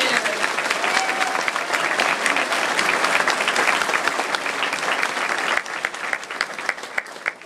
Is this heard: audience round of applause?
yes